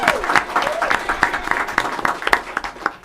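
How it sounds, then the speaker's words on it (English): An audience claps at a school district board meeting for an educator receiving an award, dense, fairly loud applause with distinct individual claps throughout, and no talk over it. "Let's just go ahead and give her an applause right"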